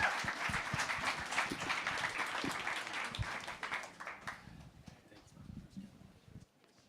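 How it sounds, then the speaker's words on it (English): Applause for a panel at a conference event, a crowd clapping that stays strong at first and then thins out and fades, with scattered voices near the end. "Let's give them a round of applause and on to the next."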